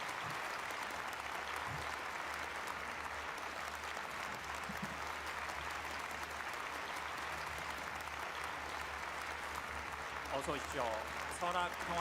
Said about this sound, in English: Please welcome Chair Barroso with a big round of applause.